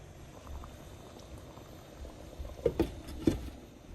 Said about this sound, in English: We're going to cover it up now and allow it to stew.